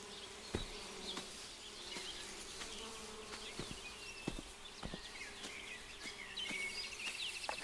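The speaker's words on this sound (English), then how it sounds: "I hear bees." A soft, continuous hum of bees droning in the video game Viewfinder, with a few light taps like footsteps scattered through it and no speech.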